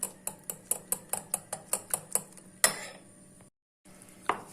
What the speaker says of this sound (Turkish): Bunları güzelce bir çırpalım